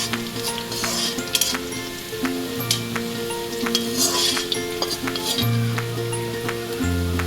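Garlic sautéing in a pan for a ghee rice chicken gravy, a steady close sizzle with occasional stirring scrapes and light clinks of utensils against the pan.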